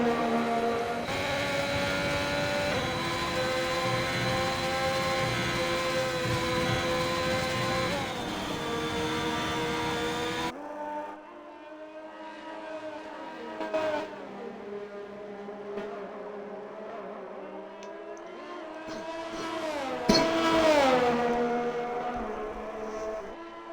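A Ferrari race car on an out lap at COTA in a racing video game drones with a steady harmonic engine tone. The engine sound drops abruptly mid-way and is followed by a quieter, shifting engine pitch and a brief swell near the end.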